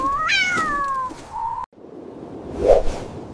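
Cartoon kitten gives a short rising meow with bright harmonics near the start, followed by a brief whoosh and a quieter airy swish; no talking.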